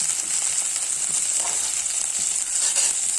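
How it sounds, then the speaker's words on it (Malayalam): Small shallots frying in hot oil for a prawn and raw mango curry, giving a steady close sizzle with faint crackles and no talking. "ചെറിയ ഉള്ളി അതൊന്ന് മൂക്കട്ടെ"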